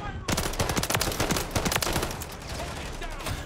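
Rapid pistol shots in the shooter game Modern Warfare 3, fired in a fast, close, loud string of sharp cracks that crowd the first couple of seconds, then thin out into scattered shots under game noise.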